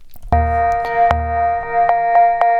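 A synth patch from the Ableton Live Vorgan pack plays sustained organ-like tones with clicky, ticking attacks on each new note, loud and alone with no voices.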